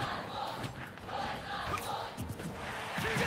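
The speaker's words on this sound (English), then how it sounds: "They're cheering for somebody." A distant crowd cheers and shouts in waves at a college Super Smash Bros. Ultimate esports match, a faint, continuous roar of voices.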